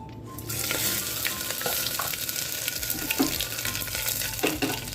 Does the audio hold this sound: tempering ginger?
yes